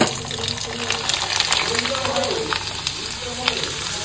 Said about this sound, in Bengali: গরম গরম তেলও বসিয়ে দিয়েছি, সবার জন্য একটু পাঁপড় ভাজবো।